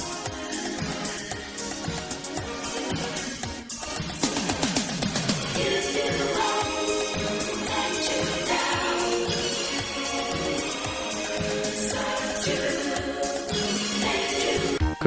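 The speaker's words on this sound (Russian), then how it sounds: "то вот их разница... Очень интересно." Side channel of a stereo music recording, the left-minus-right difference, playing continuously at steady moderate loudness with dense, thin-sounding instrumental texture and percussive hits throughout.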